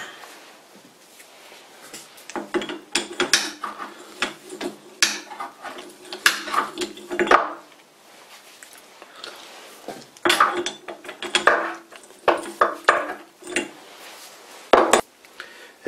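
The jaws of a vintage Union combination lathe chuck from the Union Manufacturing Company clink and rattle as metal parts are worked by hand, in irregular bursts of close metallic clatter and scraping separated by short pauses.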